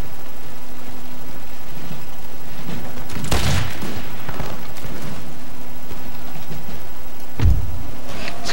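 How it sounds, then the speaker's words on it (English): Two massed musket volleys in a Darthmod battle from the Total War series, each a sharp crackling burst over a low rumbling battlefield din, the first near the middle and the second toward the end. "Oh, but can my men get off another volley?"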